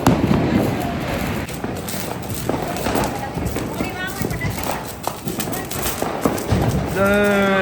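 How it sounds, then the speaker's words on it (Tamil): Diwali firecrackers crack and pop repeatedly in a street, sharp bursts scattered over a noisy background with voices talking and a whistling rocket-like tone near the end. "டைம் வந்து விட்டது, பட்டாசு அடிச்சு தரணும்"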